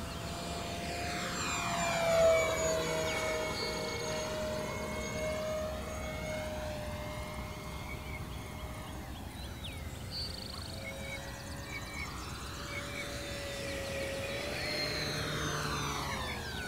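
An E-Flite P-47 Razorback RC model warbird at full throttle, a high-pitched electric motor whine that dips and climbs in Doppler sweeps as it makes passes, fairly near and alone.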